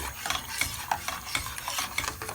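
Spoon stirring a thickening cheese sauce for macaroni cheese in a pan, quick repeated scraping strokes with a faint sizzle, close and alone without speech.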